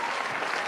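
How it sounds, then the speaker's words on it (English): A brief, steady burst of crowd applause at a virtual celebration event, dense clapping throughout with no gaps. "Big round of applause."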